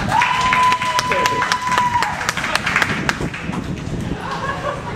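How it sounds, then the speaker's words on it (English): A crowd at a marching event claps in scattered, uneven bursts mixed with cheering and chatter, while a whistle tone sounds near the start. "Give him a 4-finger applause"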